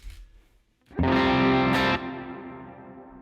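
A distorted electric guitar chord through a Helix modeler on an AC30 Normal amp model is struck, rings loudly for about a second, then fades into a long, washy room reverb tail.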